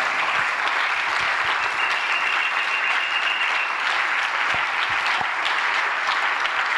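A congregation applauds during a French-language church service, a steady, dense wash of clapping from many hands that holds evenly throughout with no break and no clear voices.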